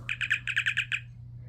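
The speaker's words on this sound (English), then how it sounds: "Not only does it chirp immediately when opened now" A Star Trek communicator replica with a microcontroller chirps as it is flipped open: a quick run of about eight bright, evenly spaced electronic tweets over a low steady hum, then quiet.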